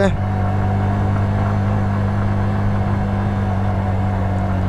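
A Suzuki SF motorcycle labours uphill in first gear on a hill road, its engine giving a steady, close, droning hum throughout, with a rider's voice talking over it.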